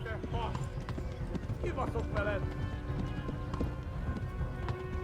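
A horse gallops in a video game with rapid, rhythmic hoofbeats running steadily throughout, while a player talks over the action.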